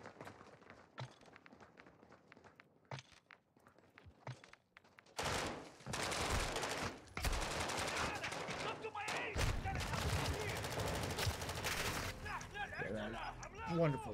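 Modern Warfare 2 defense-mode gunfire starts with a few sparse, faint clicks and shots, then turns into loud, sustained automatic bursts and overlapping fire through the second half, with some footsteps.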